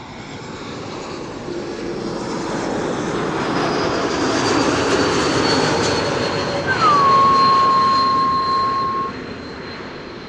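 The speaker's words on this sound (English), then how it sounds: "KLM flight 954 arrived from Newcastle" A KLM Embraer E195-E2 jet arrives at Amsterdam Schiphol from Newcastle, its engines swelling into a broad whine and rumble that peaks as it passes close, then fades, with a brief high tone partway through.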